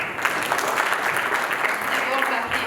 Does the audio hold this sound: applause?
yes